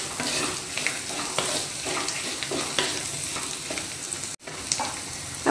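Ground pepper fries in hot oil in a pan for a ridge gourd pepper fry, giving a steady, close sizzle broken by a few stirring scrapes and one brief drop near the end.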